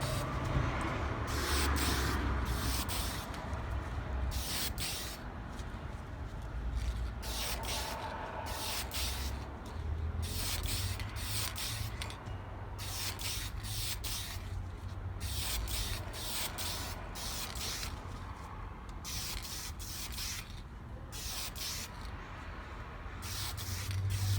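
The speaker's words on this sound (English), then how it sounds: "now you can see that I cleaned the little head of it off, so hopefully it sprays good" A spray paint can hisses onto a small Hot Wheels die-cast car in repeated close, loud bursts, each spray lasting a second or two with brief gaps between, continuing for over twenty seconds.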